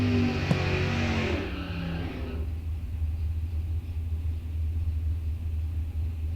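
A drag racing car at Rock Falls Raceway, at an ET bracket series event, rumbles with a steady low engine drone that stays loud and continuous throughout, with a brief brighter burst near the start.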